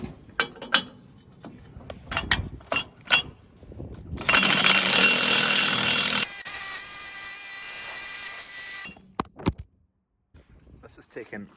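An impact wrench tightens a spare wheel holder on a flatbed. It gives a loud, sustained mechanical rattle lasting about five seconds, with a voice and clanks of handling before and after.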